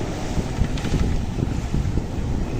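Strong wind gusts of up to 40 knots roar across a sailboat's microphone in a rough, chaotic sea. The rushing noise is loud and constant, buffeting in waves, with water surging beneath it and no voices.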